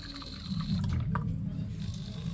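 Water flushing through an Arduino-controlled model smart toilet, a steady rushing wash of liquid running for a couple of seconds at close range.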